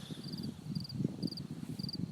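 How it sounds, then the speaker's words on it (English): Cicadas or crickets chirping at night outdoors, a faint rhythmic series of short high pulsed trills repeating about every half second over soft low background noise. "So I'll leave you to the cicadas and beauty of our planet"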